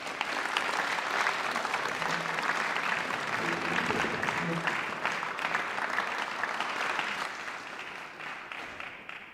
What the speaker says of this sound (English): whilst you earn your round of applause